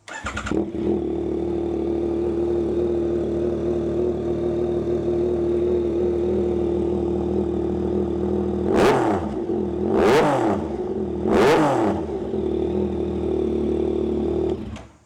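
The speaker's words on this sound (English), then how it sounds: "let's go ahead and start it again, and this time give it a couple of throttle pulls." A Yamaha R9 motorcycle fitted with a TOCE full-system exhaust idles with a steady loud rumble, then three sharp throttle blips rise and fall in quick succession before settling back to idle.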